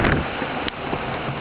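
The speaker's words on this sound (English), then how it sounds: "Got roughly 15 knots of wind, true." Wind rushes across the microphone and water hisses past the hull of a Dragonfly 1200 trimaran sailing at about 9 knots in roughly 15 knots of wind off Milford, Connecticut, in a brief, loud, steady burst.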